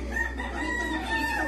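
A chicken clucks and crows close by, a steady fowl call lasting about a second and a half over a low background hum, with no talk over it.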